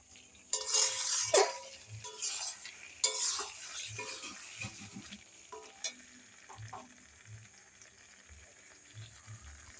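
Tough meat being stir-fried in a pan sizzles steadily while a utensil scrapes and clatters against the pan in bursts, fairly close and alone, the frying fading to a quieter hiss later on.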